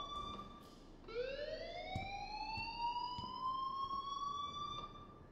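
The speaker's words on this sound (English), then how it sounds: "please turn off that alarm since that's your job" A fire alarm in the Life Is Strange video game sounds as one long rising electronic wail that holds steady at the top. It plays over a constant background hiss with faint, regularly spaced ticks.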